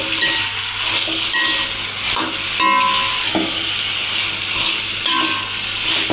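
Chicken sizzling loudly in a pan of onions for a chicken curry, with a continuous close fry and repeated scraping and clacking of a spoon as it is stirred, no talking.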